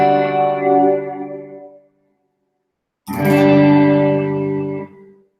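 Electric guitar played through an amp with a reverb effect blended in: two sustained strummed chords, each ringing out with a washy reverb tail, separated by a short silence, loud and close.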